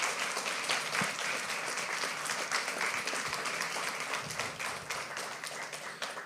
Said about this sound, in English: Can we give our panel a round of applause?